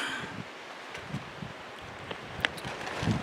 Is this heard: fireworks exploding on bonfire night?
no